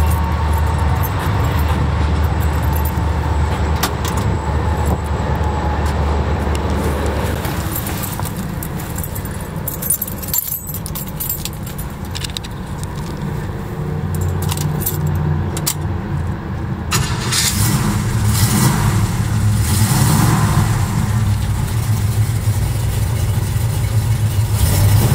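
A 1969 Chevy Camaro SS with a big-block 396 V8 is keyed and turns over, then settles into a loud, steady rumble that continues close by for the rest of the stretch, with no talking.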